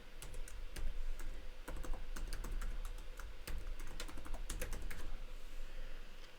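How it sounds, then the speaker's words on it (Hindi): Someone types a new password on a computer keyboard, a fast run of sharp, uneven key clicks close by that continues steadily over a faint background hum. "यहाँ पे यूज़र को अपना ओल्ड पासवर्ड टाइप करना पड़ेगा, उसके बाद न्यू पासवर्ड।"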